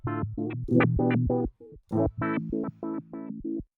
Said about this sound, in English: this preset features a filter sequencer pattern with a random LFO sweep driving the filter